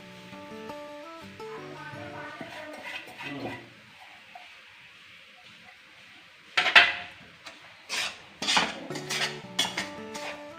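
A spoon scrapes and clinks against a pan while churma is stirred with boora sugar, with quiet chimes early and louder irregular metallic scrapes in the second half.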